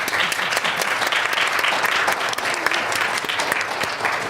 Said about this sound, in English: Please give our panelists and our moderator a big round of applause.